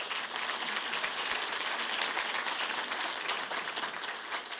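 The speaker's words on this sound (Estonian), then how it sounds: "Nii et teeme doktor Toomelale ühe aplausi." A hall audience at a military medicine talk gives a sustained round of applause, many hands clapping densely and evenly at close range, steady in loudness from start to finish.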